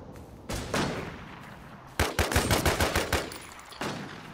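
Enemy gunfire in the survival shooter Infestation: The New Z, with scattered single shots followed by a rapid automatic burst of about eight rounds, then another shot, loud and close.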